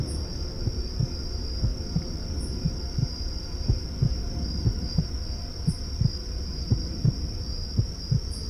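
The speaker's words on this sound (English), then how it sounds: "Like the heartbeat thing." Heartbeat sound effect for a forest horror story: steady low thumps, roughly one per second, repeating throughout over a constant high-pitched whine and faint background hiss.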